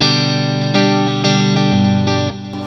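Electric guitar strummed on the neck humbucker through a BOSS Katana amp, with a thick, effects-laden tone of chorus-like shimmer and grit. Steady sustained chords shift every half second or so, loud and close.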